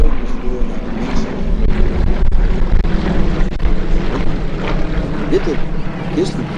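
Propeller engine of a Yak aircraft in a display at the Luchtmachtdagen airshow, Volkel Airbase, a steady loud drone throughout with crowd noise and someone talking over it on the public address.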